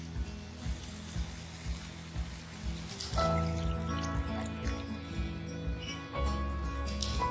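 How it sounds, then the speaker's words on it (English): Water poured into a pan of moong dal on the stove, a steady splashing and trickling that grows fuller partway through, mixed with faint clinks and kitchen background, with no talking. "Now add the water. So we will be adding around 5 cups of water."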